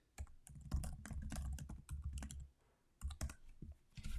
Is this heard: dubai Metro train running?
no